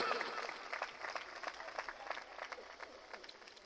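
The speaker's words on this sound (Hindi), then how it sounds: "तालियों से नवाजें" An audience at a Raibari Mahuawa mushaira claps for honoured guests, a dense, continuous burst of applause that carries steadily at moderate volume from start to finish.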